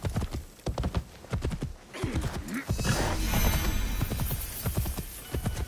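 Horse hooves trotting in a video game, a steady clip-clop rhythm of repeated hoof strikes, close and fairly loud, with a brief whinny and ambient game sounds underneath.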